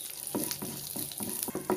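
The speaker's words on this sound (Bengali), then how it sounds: "ঘি দিয়া বাদামগুলি ভাইজা লইতেছি। প্রথমে আমি কাঠবাদাম আর কাজু বাদামটা ভাইজা নেবো।" Almonds, cashews and raisins fry in ghee in a pan, a soft, steady sizzle broken by regular scraping strokes of a spatula stirring them, close but quiet, with no talk.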